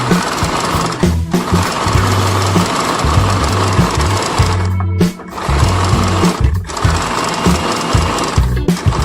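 A sewing machine stitching bell-bottom palazzo pants runs in loud, steady bursts, whirring hard for a second or two, briefly stopping, then starting again, with no voices.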